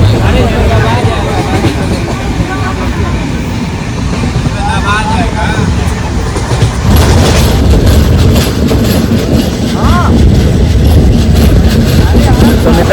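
A train rumbles steadily along the rails, with rhythmic clacking and a loud, continuous roar, while voices chatter in the background.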